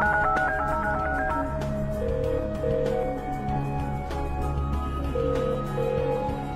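Dial tones beep in a short sequence, then a telephone ring tone repeats steadily under a low musical drone.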